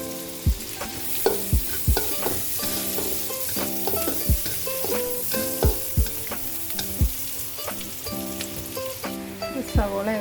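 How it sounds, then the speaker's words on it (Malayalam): Sliced onions frying in the oil left over from frying dried anchovies, a steady close sizzle broken by repeated sharp clicks of a spoon stirring against the pan. "നെത്തിലി വറുത്ത അതേ ഓയിലിലേക്ക് നമുക്ക് സവോള ചേർത്ത് കൊടുക്കാം."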